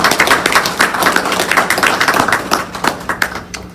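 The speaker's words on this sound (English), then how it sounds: "So how about a nice round of applause for those 3 recipients?" An audience at a National High School Football Hall of Fame ceremony gives steady, moderately loud applause that continues throughout without fading.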